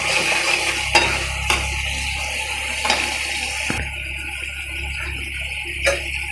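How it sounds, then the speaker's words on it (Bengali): Bengali spice paste being stir-fried and browned in a pan, a continuous close sizzle with several sharp spatula knocks and scrapes against the pan, no talking. "এই যে দেখেন আমি মশলাটা সুন্দর করে কষিয়ে নিচ্ছি"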